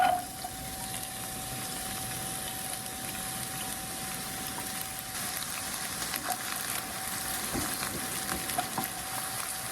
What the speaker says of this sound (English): Once we have the oil hot, we add the onions, the garlic, and the green chilli.